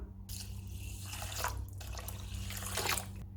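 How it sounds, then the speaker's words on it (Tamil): Basmati rice, about three tumblers, rinsed in water for a pressure-cooker chicken biryani: steady close sloshing and dripping water with two brighter splashy swells, no talk. "பாசுமதி அரிசி 3 டம்ளர் அளவு அலசி எடுத்துக்கணும்."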